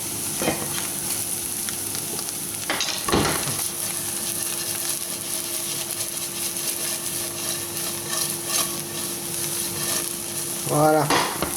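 Cèpe (porcini) mushrooms with garlic sizzle in a frying pan while being stirred, a constant close frying hiss with a few louder scraping stirs and clinks and no talking.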